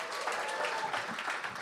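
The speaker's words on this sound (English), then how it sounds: "so let's give him a round of applause" An audience at a live Bushwick Book Club evening in Seattle claps for a saxophone accompanist, making a brief, even burst of dense clapping that holds steady throughout.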